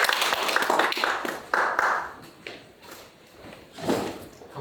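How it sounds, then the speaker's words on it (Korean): Scattered clapping from a forum audience in Yongsan breaks out in short, uneven bursts, fairly close, with no one speaking over it. "박수 부탁드립니다."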